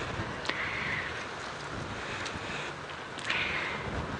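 Wind buffets the microphone on an open safari drive, a steady, rushing noise with a couple of stronger gusts and no talk.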